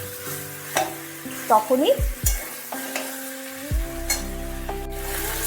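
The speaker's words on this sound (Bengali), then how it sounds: "খুব ভালো করে কষিয়ে নিতে হবে।" Chicken for yogurt chicken being sautéed and stirred in a wok: repeated scraping stirs over a continuous close sizzle, with a brief spoken word and light background music.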